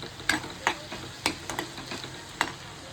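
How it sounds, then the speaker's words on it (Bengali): Large cut prawns sizzling in a frying pan, with several sharp stirring or spatula clicks and scrapes standing out over a low, steady crackle, heard up close. "এই যে বড় বড় চিংড়ি মাছ, তাই কেটে কেটে নিয়েছি, ভাজা করছি"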